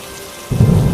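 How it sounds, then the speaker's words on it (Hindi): Heavy rain with thunder: a quiet hiss of rain is suddenly overtaken by a loud, deep rumble of thunder that rolls on beneath the downpour for the rest of the moment, with no voices. "बाहर बहुत तेज बारिश हो रही है।"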